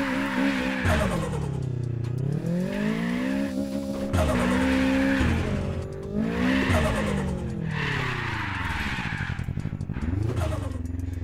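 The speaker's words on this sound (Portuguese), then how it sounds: "O carro ficou pra drift" A turbocharged Toyota Trueno AE86 in the video game Apex Point drifts with a continuous loud engine drone whose pitch swoops up and down with revs, layered with tire squeal throughout, no talk.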